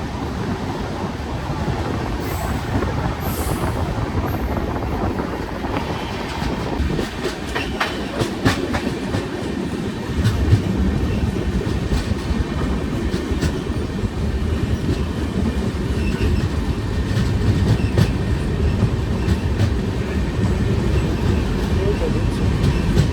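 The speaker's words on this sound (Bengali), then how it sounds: "2 মিনিটে হল দিয়ে ট্রেন চলল তামলুকের দিকে" The 12857 Tamralipta Express runs on the Howrah–Digha line toward Tamluk, with steady rumbling wheels and rhythmic clickety-clack over rail joints heard from on board, with voices in the background.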